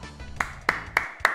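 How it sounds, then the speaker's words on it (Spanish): In a football video game, a stadium crowd at Stamford Bridge applauds with a steady, lightly echoing clap: four distinct claps spaced about a quarter second apart over a faint background hum. "Stamford Bridge aplaudiendo a Galiño"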